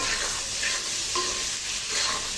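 Fresh tomatoes sizzling and frying in a hot pan, a steady close crackling hiss with light stirring scrapes throughout and no talking.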